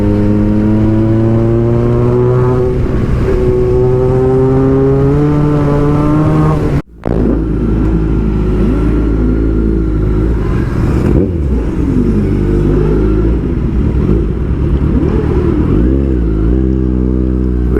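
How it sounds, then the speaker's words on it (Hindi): Superbikes, including a Kawasaki Z900, ride past loud and close with rising and falling engine revs, a brief drop around the middle, then steady multi-bike motor noise. "there were a lot of super bikes which were like fun."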